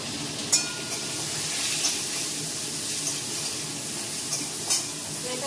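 Pointed gourd (potol) frying in oil in a pan, a steady broadband sizzle with a few sharp stirring scrapes and clicks scattered through, alone without talk.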